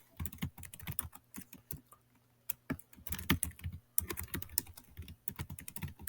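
Rapid clicking of a computer keyboard comes in close, uneven bursts of keystrokes with brief pauses, and there is no talking.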